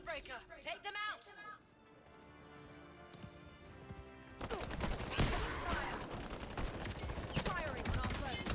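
Gunfire from the video game Highguard, rapid shots layered over game music and effects, rising to a loud, dense stretch in the second half, with speech heard in places.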